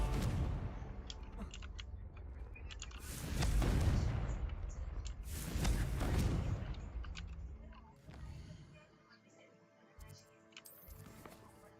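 Confringo, a fiery explosive spell in the Hogwarts Legacy video game, detonates in two heavy booming blasts a couple of seconds apart, each with a rumbling tail, followed by quieter clattering game effects.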